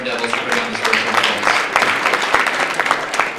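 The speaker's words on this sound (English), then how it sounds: "So give a round of applause to Dr. Devane and pwndevils for putting on this virtual event." A short round of applause closes a virtual hacking workshop. Dense, steady clapping runs for about three seconds with a voice partly mixed in.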